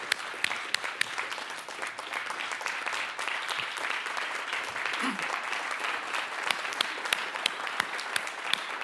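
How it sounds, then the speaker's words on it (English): Steady applause from an audience at the annual meeting of the corporators of a regional medical center, dense clapping continuing evenly throughout at moderate loudness. "so we can give you a round of applause"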